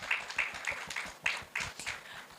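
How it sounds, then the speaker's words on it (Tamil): Applause from an audience at a yoga group's felicitation ceremony honouring gurus, heard as faint, uneven clapping that rises and falls over a couple of seconds. "எல்லாரும் கொஞ்சம் கைத்தட்டி இது பண்ணுங்க."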